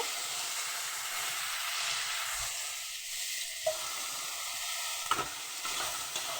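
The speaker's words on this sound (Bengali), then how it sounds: "তেলের মধ্যে ফুলকপিগুলো দিয়ে দেব।" Cauliflower florets frying in hot oil, a continuous hissing sizzle up close with a few sharp utensil knocks near the end.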